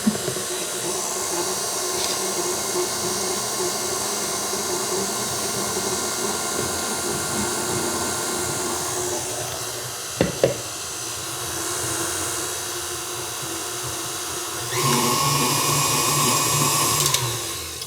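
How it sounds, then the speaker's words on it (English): A KitchenAid Classic Plus stand mixer mixes applesauce cinnamon swirl cake batter with a steady, close motor whir. It briefly knocks once and then rises to a louder, higher speed near the end. "This is the KitchenAid Classic Plus."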